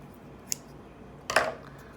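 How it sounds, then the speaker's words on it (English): Scissors snip the tip off a small piece of folded paper: one quick light click, then a short crisp cut a moment later, close and alone. "And then with your scissors, just cut off a tiny little bit of the tip."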